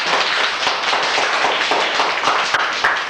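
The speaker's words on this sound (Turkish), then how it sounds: "Arkadaşınızı da alkışlayın bakalım." Schoolchildren in a small village primary classroom clap for a classmate, a quick, brisk patter of small hands at close range, fairly even and sustained throughout.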